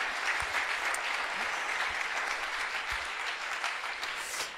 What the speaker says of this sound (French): On l'applaudit, on le remercie